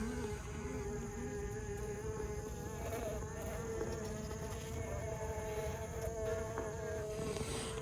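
Steady close buzzing of many honeybees gathered at a beehive bee escape below a super, a continuous high hum with faint background noise.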